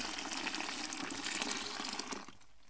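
Water pours and splashes steadily into a container for a couple of seconds while mixing a floor cleaner, then stops abruptly near the end.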